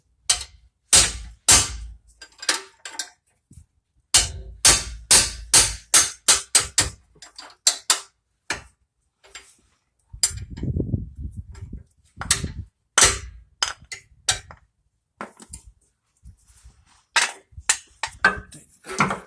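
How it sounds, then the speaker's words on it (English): Repeated sharp metallic hammer strikes on a tight rear brake part of a 2010 Chevrolet Suburban or Tahoe come in quick bursts and clusters, loud and close, with short pauses and a brief low rumble midway. "You have to use the hammer because they're tight."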